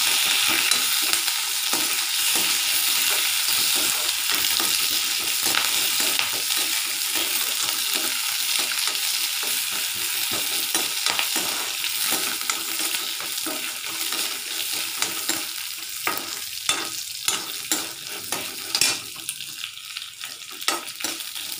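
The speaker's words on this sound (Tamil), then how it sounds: "நம்ம தூதுவளையும் போட்டு நல்லா ஃப்ரை பண்ணிக்கலாம்" Thuthuvalai leaves fry and get stirred in a pan for chutney, a steady close sizzle with frequent scraping stir strokes that grow more pronounced toward the end.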